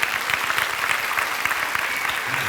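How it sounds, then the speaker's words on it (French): An audience at a conference talk breaks into steady, dense applause, a continuous patter of clapping at moderate loudness across the whole short stretch. "tu peux applaudir, c'est fini."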